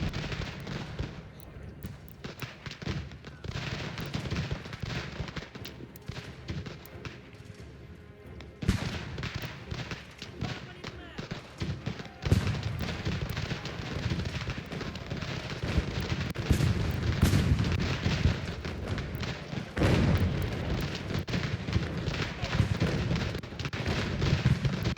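Artillery and musket fire from the Ultimate General: American Revolution game rumble continuously in dense, overlapping booms and crackles over a battle din, fairly loud throughout.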